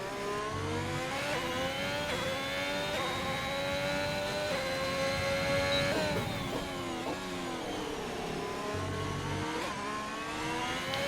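A scarlet red Ferrari's engine in a no-assist sim racing game at Hungary, sustained high-revving whine climbing and dipping through gear changes on a flying lap, loud and continuous.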